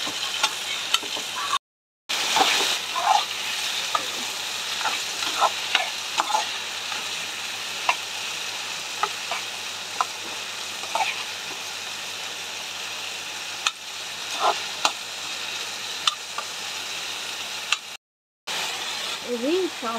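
Tender homegrown bitter gourd pieces frying with onion and green chilli in a pan, giving a steady sizzle broken by frequent stirring scrapes, with a voice speaking now and then.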